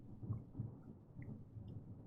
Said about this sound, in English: Thunder snow is coming.